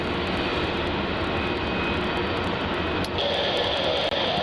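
A Boeing 787 Dreamliner's jet engines roar in a broad, steady wash at Melbourne Airport, loud and sustained. A higher whine rises partway through as the engines spool up, and there is no talking.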